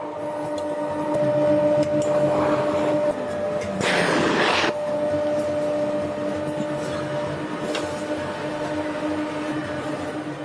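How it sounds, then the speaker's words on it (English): A feather fresh-up machine processes down feathers for a premium Nishikawa down comforter, giving a steady mechanical hum with a constant tonal drone, a brief loud rushing burst midway and a few softer swells, without speech. "They are then fed into the fresh-up machine."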